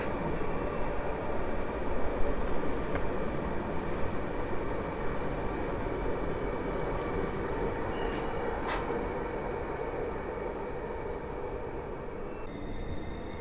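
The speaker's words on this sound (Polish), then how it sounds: "Rusza pociąg do Łowicza" A suburban train pulls away from platform 3 at Warszawa Zachodnia, bound for Łowicz, a steady broad rumble with faint high squeaks and clicks from the wheels and rails.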